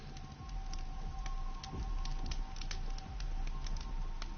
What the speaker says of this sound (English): We're perched out here at this campfire.